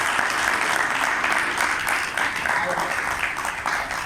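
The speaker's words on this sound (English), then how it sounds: "Can we have a big round of applause?" At a Round Table India Area 18 gathering, the audience gives a big round of applause for Tony Puneet; the steady, fairly loud clapping continues throughout, with voices mixed in.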